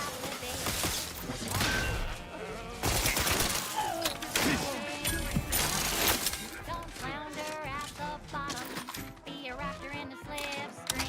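Rapid sci-fi gunfire in the Outer Worlds 2 shooter, dense bursts and cracks layered with crashes and effects, loud and continuous, with voices talking over parts of it.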